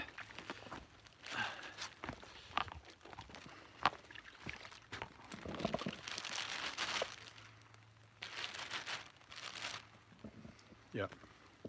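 A plastic bag crinkles and rustles as it is pulled over a camera outdoors in the rain, with broadband bursts coming and going in irregular handling spurts. A voice talks briefly in the background.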